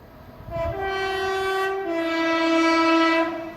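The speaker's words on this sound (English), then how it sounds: "801 107 and 800 209. With the extraordinary three-tone through Crossgates." LNER Class 801 and Class 800 trains, units 801 107 and 800 209, race through Crossgates sounding a three-tone horn. The horn is loud, sustained and near, stepping down in pitch partway through over a low rolling rumble.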